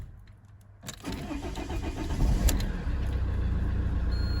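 A fresh battery lets an Alfa Romeo Giulietta's engine crank and catch strongly, the starter's whir rising into a steady, close idle that carries on alone.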